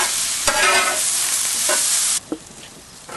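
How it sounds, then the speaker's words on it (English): Sea bass and vegetables sizzle loudly on a Weber Q grill, a dense steady hiss broken by a few stirring knocks, then the sizzle drops sharply quieter and continues more softly with occasional clicks; no one talks. "I've turned the fish over and the veg is going on."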